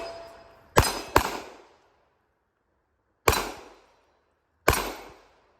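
Four sharp shots from a Walther P99 pistol ring off steel gongs: a quick pair, a pause, then two more single shots, each followed by a short metallic ring and decay.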